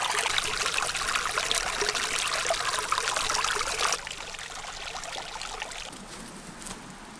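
Hot water poured from a kettle into cups to make tea at a camp near hot springs, a steady trickling stream that shifts in tone partway through and continues alone without talk.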